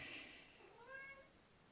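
A domestic cat at a door gives a faint, distant meow, a single drawn-out call that rises and falls under a quiet room hiss, with no talking.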